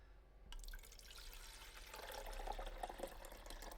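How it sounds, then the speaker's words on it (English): Water is poured into the back reservoir of a single-serve coffee maker from a pitcher, a soft, steady splashing trickle that builds slightly and continues alone throughout, fairly quiet and close. "Let's go ahead and throw some water into the back right here."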